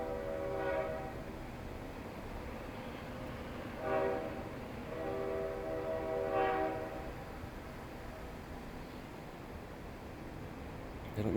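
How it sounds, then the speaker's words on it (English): A distant train passes with a low rumble, its horn blowing in a few separate drawn-out blasts. "I don't know if that's a CN train or CP train"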